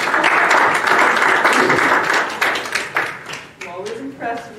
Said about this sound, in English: It should be applauded.